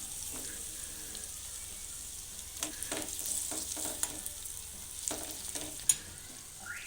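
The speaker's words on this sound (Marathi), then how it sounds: "आता बटाट्याचे काप याच्यामध्ये मिसळून घेऊया" Sliced potatoes being stirred into a hot pan for batata poha, with a steady low sizzle and scattered scraping and clinking of a spoon against the pan, close and unaccompanied by talk.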